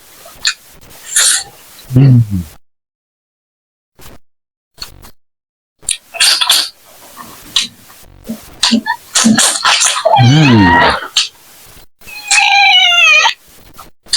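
A pet cat meows in a kitchen while paksiw fish simmers nearby, with short scattered noises and brief vocal sounds before a drawn-out, wavering meow near the end.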